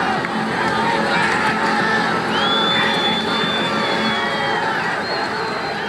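Dense, roaring crowd noise during the Gen Z protest as people storm Nepal's parliament, a steady wash of shouts and cheers with sporadic whoops and whistles throughout.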